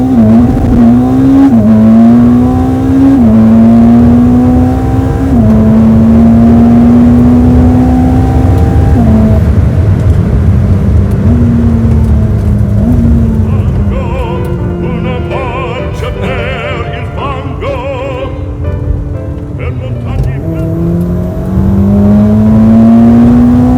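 A 1000hp Ferrari SF90 Stradale accelerates hard in Malaysia, its engine note climbing through several gear changes in rising, loud sweeps that stay close and dominant for the whole stretch, with no talking over it.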